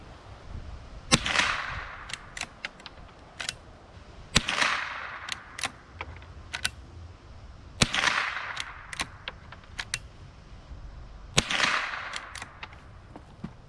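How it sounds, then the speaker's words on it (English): A Henry Golden Boy .22 lever-action rifle fires five sharp, separate shots outdoors at a range, each crack followed by a brief echo, with metallic lever clicks between shots. "So I got my first 5 shots off."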